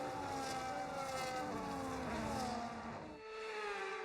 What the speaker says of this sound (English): So the formation lap gets underway here in Japan.